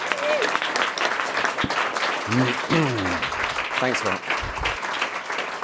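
Audience applause for an author, broadcaster and journalist at a Google talk, a steady dense clatter of many hands running the whole stretch, with a voice speaking briefly over it near the end.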